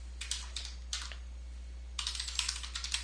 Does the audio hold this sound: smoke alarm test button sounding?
no